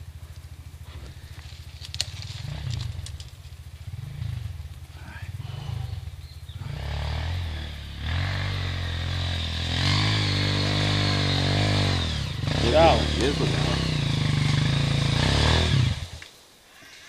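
A dirt bike's engine bogs and revs hard on a dirt trail, with rhythmic throttle blips at first and then a long, loud, straining climb that cuts off abruptly; people shout and talk nearby.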